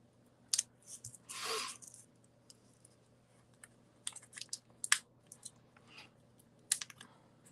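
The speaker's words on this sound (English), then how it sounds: "I'm going to have to trim a little bitty piece for the tree" Scissors trim a small piece of paper card in a few quick, crisp snips and clicks, scattered irregularly against a quiet background hum.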